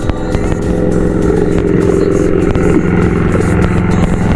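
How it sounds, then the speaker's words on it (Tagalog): A boat engine heard underwater: a steady, loud drone with a constant low rumble and muffled mechanical throb that holds for the whole stretch, with no talking. "maririnig talaga ang tunog ng makina habang nasa ilalim ako"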